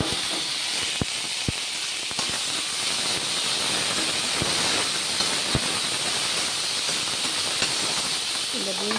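Green Ooty beans hit a hot pan with curry leaves for a South Indian poriyal, giving a steady hissing sizzle throughout, broken by small sharp pops and crackles.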